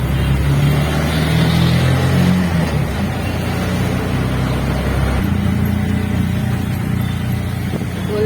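An auto rickshaw engine drones loudly and continuously through the ride, with a steady low rumble and slight shifts in pitch as it runs. No one speaks over it.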